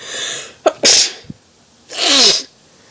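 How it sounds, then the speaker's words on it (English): Two loud, close sneezes with a sharp intake of breath before each, the second one long and forceful, otherwise quiet around them. "I sneeze in the 3s."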